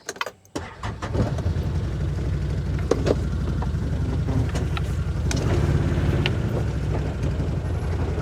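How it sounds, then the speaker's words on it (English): A car engine runs close by in an FPV drone retrieval vehicle, a steady rumbling drone that settles in after a brief start, with occasional clicks and knocks. "In the FPV retrieval vehicle."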